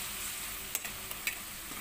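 Tadka of spices sizzling in a pan with added water for a cauliflower and potato dish: a steady close hiss of frying, with a few sharp pops and spatters.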